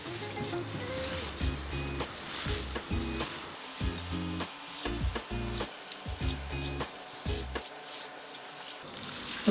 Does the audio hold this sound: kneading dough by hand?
yes